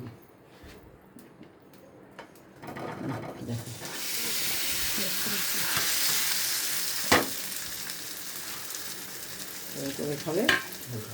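Sapla paturi fries in oil as it is stirred, a soft sizzle rising into a steady hiss with occasional scraping knocks against the pan, moderately quiet and free of talk.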